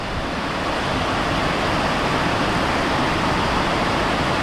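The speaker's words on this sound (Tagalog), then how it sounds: "ang lakas ng ulan" Heavy rain falling steadily over a farm with onion beds, a water spinach patch and papaya trees, a dense, loud, unbroken wash of noise with no break for the full stretch.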